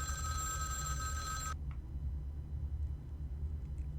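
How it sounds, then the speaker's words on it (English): In the video game Vampire: The Masquerade - Bloodlines, a telephone rings with a steady bright electronic trill for about a second and a half, then stops abruptly, leaving a low ambient hum. "let's go ahead and answer the phone"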